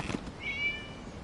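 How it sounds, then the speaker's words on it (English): A short, clear meow from a cat in the Genshin Impact video game, sounded once at close range over faint background noise. "It was just a cat."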